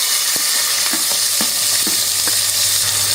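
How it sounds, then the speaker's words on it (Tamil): Small onions with fennel seed, cinnamon and cloves frying in oil inside a pressure cooker give a continuous close sizzle, broken by a few soft knocks and scrapes from stirring, with no talking. "கட் பண்ணி வச்சிருக்கிற சின்ன வெங்காயமும் போட்டுக்கலாம்."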